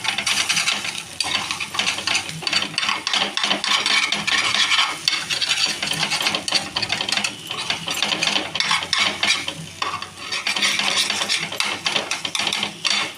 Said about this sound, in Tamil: எல்லாத்தையும் போட்டு கலக்குன்னு கலக்கிட வேண்டியதுதான்.